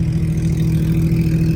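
A car with a titanium exhaust idles at a toy rally, a loud, steady low rumble from close range with an even throb and no revving.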